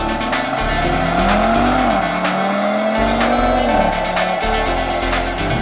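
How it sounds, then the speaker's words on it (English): Audi RS3 (2025) five-cylinder engine accelerating on a drive, loud and close with rising pitch through the gears, a brief dip between shifts, and no talking. "enjoy all that 5-cylinder sound and all the things that the RS3 can do for you"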